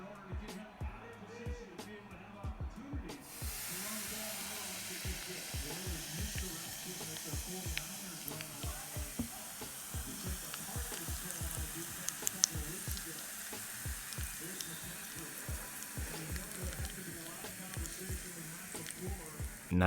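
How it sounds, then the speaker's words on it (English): Hot oil poured over chili flakes bursts into a sudden sizzle after a quiet start, then keeps up a steady, crackling hiss with small pops for a long stretch, fairly soft and close. "let's see if I can film myself pouring this hot oil over the chili flakes without burning the place down"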